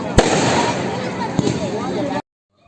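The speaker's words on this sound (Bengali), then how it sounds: "আমরা দীপাবলি উপলক্ষে আমাদের মাঠে বাজি ফোটানো দেখতে গেছিলাম" Diwali fireworks and firecrackers going off at a crowded field, a steady crackling roar with two sharp loud bursts standing out, then sudden silence; a voice may be mixed in beneath the noise.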